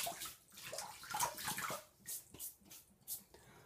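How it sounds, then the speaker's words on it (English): Water splashes and drips during a wet shave with a Gillette Old Type razor, several close bursts of splashing and trickling separated by brief pauses. "I'm gonna get some more water on the face."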